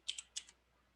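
Quick bursts of typing on a computer keyboard, a handful of close, light key clicks in two short clusters, then quiet.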